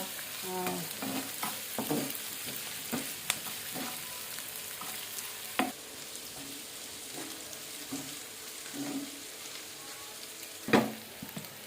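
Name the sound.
onions frying in oil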